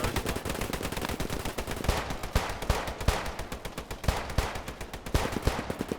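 Maxim machine gun in a WWII video game, rapid sustained bursts of automatic fire with dense rattling shots mixed with other gunfire, loud and continuous, no talk.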